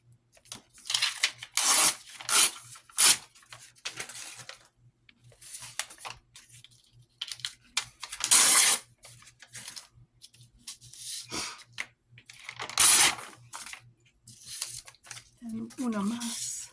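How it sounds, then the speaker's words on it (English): Paper from a file folder is torn in several short, sharp rips spread out over the stretch, loud and close, with quiet pauses between tears. "So let me tear this off."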